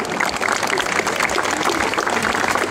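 Crowd applause at the 2019 Lisieux cycling criterium, a dense, steady patter of clapping from spectators that fills the whole short stretch without a break.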